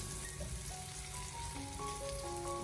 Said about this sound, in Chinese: 锅里面添加少许的油，油热以后再将拍蒜还有豆豉放进锅中，开小火给它翻炒一下